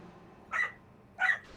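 Girl puppies bark loudly in two sharp, close yaps about half a second apart, sounding over a quiet background with no talking.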